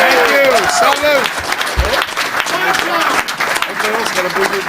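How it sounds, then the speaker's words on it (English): An audience applauds a wrestling fan-event Q&A, a dense, loud wash of clapping mixed with shouting and cheering voices throughout. "Notice I'm clapping for myself."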